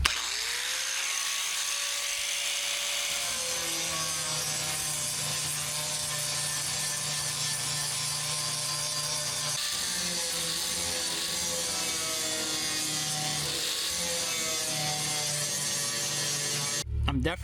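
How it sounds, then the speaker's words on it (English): Angle grinder working over pinholes in a metal fuel tank, a steady sustained whine with shifting pitch that runs almost the whole time, ending in a brief clatter. "I have the grinder out and I'm going to clean up these holes"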